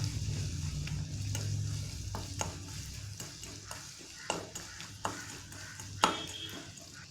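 Mango ginger thokku with rock salt and asafoetida is stirred in a pan, a soft low sizzle under repeated scraping and tapping of a spoon against the pan, close and intermittent with no speech.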